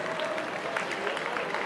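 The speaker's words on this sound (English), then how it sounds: "Please give yourselves a round of applause." Guests at a nurses' awards gala applaud, a dense, even patter of many hands clapping across the room with faint voices mixed in.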